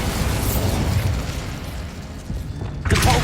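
A Bombarda spell explosion in Hogwarts Legacy erupts as a loud, rumbling, sustained blast with a dense low roar, followed by a fresh burst near the end, close by and without talk.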